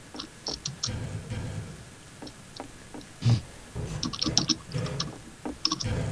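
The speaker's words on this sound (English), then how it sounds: "I'm tapping D and scrolling my fingers across the keyboard" Fingers tap and slide across a computer keyboard, giving irregular bursts of close, light clicks and patters with brief pauses between them.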